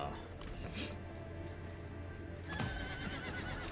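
A horse whinnies over a steady Diablo 4 game soundscape with background ambience and faint hoof clatter.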